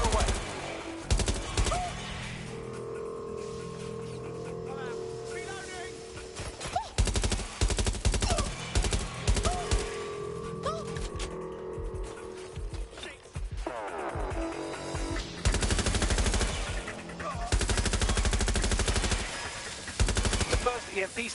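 Automatic gunfire in Watch Dogs Legion, with bursts of rapid shots crackling through a dense, busy game mix of music and effects, repeated over and over across the whole stretch.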